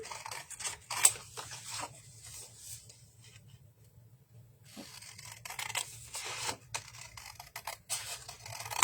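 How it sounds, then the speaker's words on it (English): Scissors cut paper along a marker line in quiet, close, irregular bursts of snipping and crisp paper rustle, broken by a brief pause before the cutting resumes. "And I'm cutting right on my marker line."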